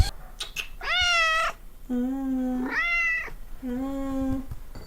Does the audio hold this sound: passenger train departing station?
no